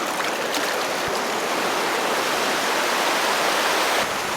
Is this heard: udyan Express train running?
no